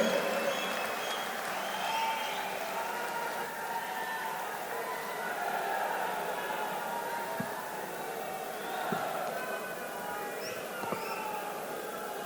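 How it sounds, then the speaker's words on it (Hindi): A large political rally crowd at a roadshow in Jaipur applauds steadily and continuously, a dense, distant wash of clapping that holds at an even level throughout with no break. "जोरदार लगातार ताली बजनी चाहिए"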